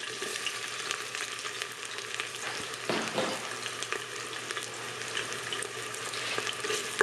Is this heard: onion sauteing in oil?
yes